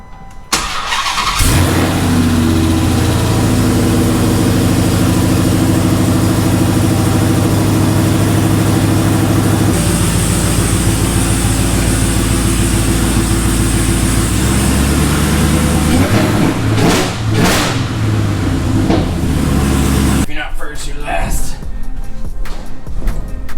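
Dodge Viper engine running as the car is unloaded, a loud, steady low rumble that goes on for about twenty seconds with a few shifts in pitch before cutting off, and people talking around it.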